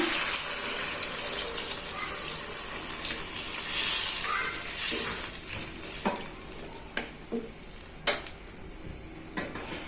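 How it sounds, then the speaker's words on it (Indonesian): Water is poured into a cooking pot of hot, sizzling food for a rendang-style dish, producing a loud continuous hiss and bubbling splash up close, with scattered clinks of a utensil against the pot. "Dan ini akan saya kasih air ya."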